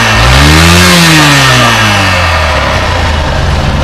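A Honda Fan 125 motorcycle with a faulty stator and noisy engine revs hard and close, its pitch climbing then sliding back down to a loud, rough idle.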